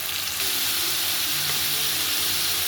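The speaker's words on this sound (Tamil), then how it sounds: "நம்ம வெங்காயம் வதங்கும் போது" Chopped onions sautéing in hot oil in a pan for a quail gravy, a dense, steady sizzle with crackling and occasional stirring scrapes, close and continuous throughout.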